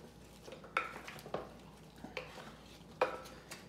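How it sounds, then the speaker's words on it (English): A spoon scrapes and clinks against a crock-pot while stirring onions, butter and pierogi, giving a few distinct, fairly quiet knocks spaced about a second apart over a soft background. "let's just go ahead and use our spoon and move the onions and the butter around, get a nice coat on the pierogi"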